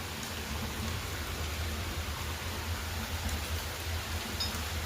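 Steady rain falls around a village house, a continuous even hiss with low rumbling texture throughout, close and moderately loud with no voices.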